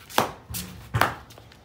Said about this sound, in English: Cut this with my knife